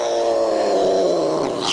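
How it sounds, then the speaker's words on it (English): A cat lets out a loud, sustained, strangled growling caterwaul, harsh and close, holding steady for under two seconds before breaking off, with no talk over it. "That cat sounds like a demon with throat cancer."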